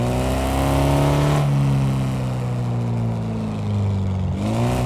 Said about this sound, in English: It just sounds like exhaust leak, but I think that's intentional